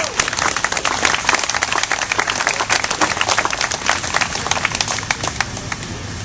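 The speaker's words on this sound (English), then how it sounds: "give yourselves a round of applause for being here" Audience applause at a gathering on resigning from the LDS Church as a speaker is welcomed, dense, continuous clapping from many hands, loud and close, with no speech over it.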